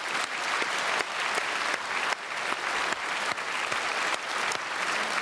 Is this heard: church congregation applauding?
yes